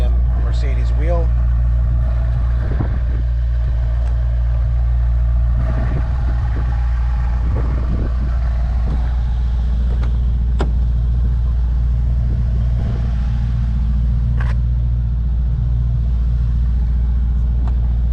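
A 2021 Mercedes-Benz E63 S AMG Wagon engine rumbles at a steady loud idle after a cold start, with a brief rev early on and faint voices and clicks over the constant low drone.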